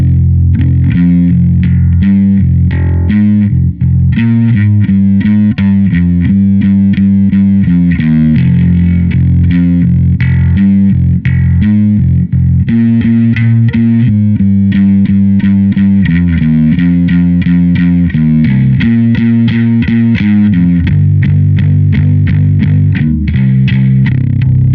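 A distorted bass guitar plays riff 6 of a song slowly, with steady repeated notes and a heavy, effected tone, loud and close with no talking.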